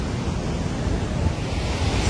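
The roar of Victoria Falls fills the misty splash zone as a steady, broad wash of rushing water and spray, loud and unbroken for the whole moment.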